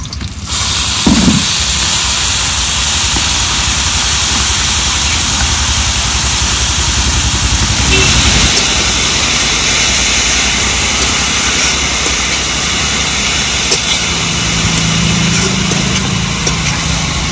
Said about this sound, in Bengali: এবার কেটে রাখা শাকগুলো ঢেলে দেবো।